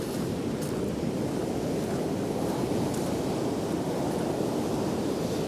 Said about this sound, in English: And waves are pretty fierce.